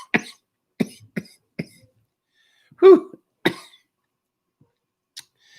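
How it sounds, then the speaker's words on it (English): A series of sharp, close coughs in short bursts, followed by a throat-clearing hack and a couple of quieter coughs. "but it's making me cough."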